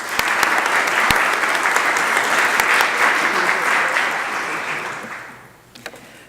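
Audience applause at a mayor's press conference on community asthma prevention, welcoming a speaker to the podium: a sustained burst of clapping from a crowd that holds steady and then tapers off near the end.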